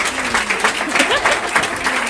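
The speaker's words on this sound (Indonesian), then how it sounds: "Tepuk tangan dong" An audience at a casual talk with the CEOs of Indonesia Dream Juice and Vapor King Distribution applauds, steady close clapping with voices mixed through it.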